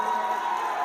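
Audience at a mushaira poetry gathering greeting a poet with loud, dense applause and cheering, a continuous roar of claps and voices filling the whole moment.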